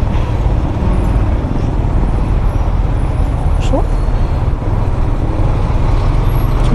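Heavy road traffic on Diversion Road in Davao City, with buses and trucks rumbling past in a dense, continuous roar and a brief engine whine, heard close and loud under a short spoken word.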